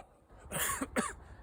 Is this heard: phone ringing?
no